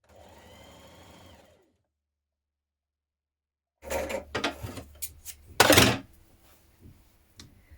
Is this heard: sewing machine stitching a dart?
yes